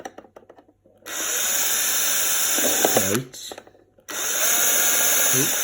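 A power drill whirs loudly in two long bursts, broken by a short pause with a brief spoken word between them.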